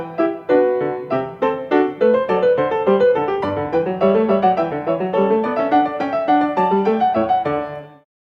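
A Bach keyboard piece built on a sequence plays as steady running notes over a moving bass line, clear and fairly loud, with no voices, before the final chord fades out.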